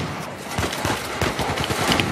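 Gunfire in Uncharted 4, a dense burst of loud shots mixed with rumbling combat noise, close and continuous, with no talk.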